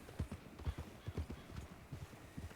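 A horse in the Red Dead Redemption 2 game clip-clops along at a walk, its hooves thudding in an uneven close rhythm, with a faint voice briefly in the background.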